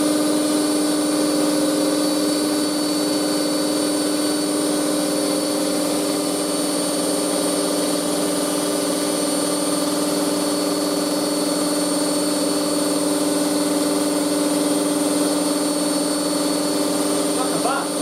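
A Hotpoint WM63 Aquarius 1100 washing machine runs its final wash with the lid off, its motor giving a loud, constant whine with steady tonal hum that holds unchanged from start to finish.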